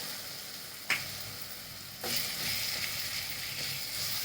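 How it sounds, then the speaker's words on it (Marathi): Dry spices, yellow masala, black masala and onion-garlic masala, frying and stirred into soybean bhurji in a pan: a steady, moderate sizzle with a sharp clink early on and a louder scrape of stirring partway through. "चांगले हलवून घेते आता मसाले चांगले शिजू देते"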